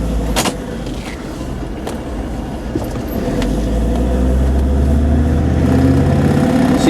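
Land Rover Discovery TD5 diesel engine on the move with its wastegate modulator reconnected, a steady low drone that builds slightly in loudness as it drives, heard from inside the cabin with no talking.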